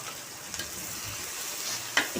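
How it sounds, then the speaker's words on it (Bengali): Chopped onions go into oil left over from frying tengra fish, giving a soft, quiet sizzle with light stirring scrapes and one brief clatter near the end. "এরপরে যে তেল থাকবে ওই তেলে পেঁয়াজ কুচিগুলো ছেড়ে দেব।"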